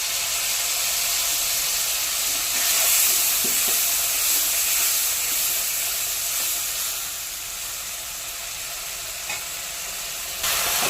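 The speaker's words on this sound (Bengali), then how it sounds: "এবারে বানানো মশলাটা দিয়ে দেবো।" Spice paste hits a hot pan of fried tomatoes for a jackfruit and chana dal fritter curry, giving a steady, close, bright sizzle with a few stirring scrapes, with no talking.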